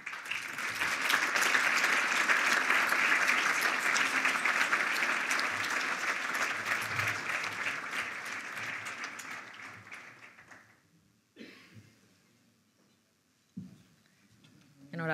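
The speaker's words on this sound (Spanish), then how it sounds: "Un aplauso para Luis Montoto." Sustained applause from a crowd at an energy awards ceremony, loud and steady for about ten seconds, then fading out, followed by a few scattered sounds and a short pause.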